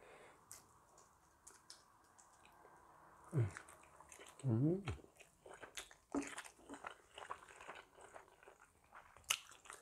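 Someone eats bamboo shoot curry with fermented-fish papaya salad, making close crunching bites and chewing with occasional slurps, and a voice speaks briefly between mouthfuls.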